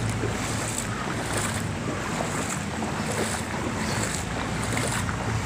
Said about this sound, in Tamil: எப்படி தண்ணி போகுது பாருங்கள்